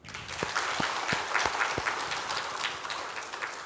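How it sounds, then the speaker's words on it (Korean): A church congregation applauds during a Korean sermon, a fairly soft, steady patter of many hands clapping at a distance, with a few sharper, louder claps standing out early on. "우리 한번 박수로."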